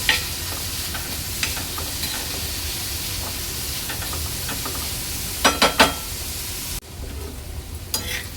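Sliced onions frying in oil in a pan for a dried prawn masala, with a constant close sizzle and hiss, broken by several quick scraping stirs before the sizzle drops briefly near the end.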